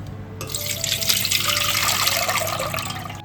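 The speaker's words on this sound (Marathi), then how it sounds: "बटाटा आणि सर्व शेंगा कटिंग करून झाल्यात तर पाण्यात एकदा आपण स्वच्छ करून घेतोय" Cut potatoes and beans are rinsed in water, making a continuous splashing and trickling wash close at hand, with no talk.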